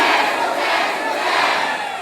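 A crowd at an Indonesian civic organization's thanksgiving gathering shouts a chanted response in unison, a dense, loud roar of many voices that holds steady for the full two seconds.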